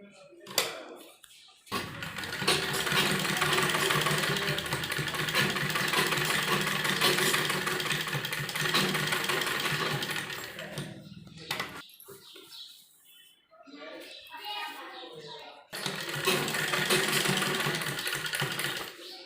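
A sewing machine runs straight stitching along an embroidered kurti sleeve with lining, whirring steadily in long close bursts, stopping briefly near the start and for a few seconds near the end while a voice speaks.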